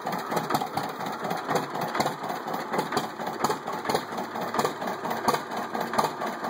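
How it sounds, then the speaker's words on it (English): A 1941 John Deere Model B tractor's large-bore two-cylinder engine runs with a steady, uneven putt-putt pulse, close and continuous, with no talk over it. "that's the way they're supposed to sound. They're a large bore two-cylinder engine."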